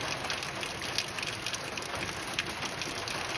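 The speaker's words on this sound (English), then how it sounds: "he's standing waiting in the rain." Steady rain falls across an off-grid homestead at feeding time, an even, dense patter on surfaces that carries on without a break.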